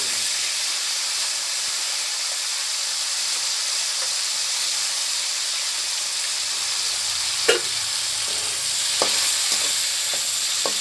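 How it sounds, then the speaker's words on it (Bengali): Dried phesa shutki fish fry in hot oil seasoned with salt and turmeric in a wok, giving a soft, steady hiss with a few sharp pops and spatters near the end. "দেখো আমি প্রথমে মাছগুলোকে ফেসা শুটকিগুলোকে ভেজে নেব কড়ায়।"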